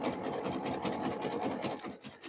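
A sewing machine stitching fabric strips into a jelly roll rug, its needle chattering in a quick, rough, rasping rhythm, close and fairly quiet, breaking up briefly near the end.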